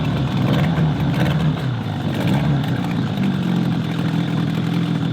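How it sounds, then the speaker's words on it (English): A brand-new dinghy outboard engine runs steadily after its first start, a close, continuous buzzing drone with slight rises and dips in pitch, fairly loud and alone. "It's the first time that engine's ever been started, and it's easier to start than our 4-stroke."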